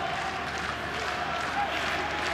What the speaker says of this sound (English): Once again, the crowd going absolutely crazy, but it's not to be.